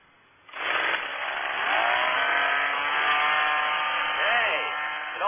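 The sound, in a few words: gas-powered hedge trimmer running in radio advert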